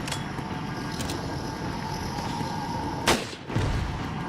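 A rifle shot rings out in the Resident Evil video game, a single sharp crack near the three-second mark over a steady, murky in-game background hum.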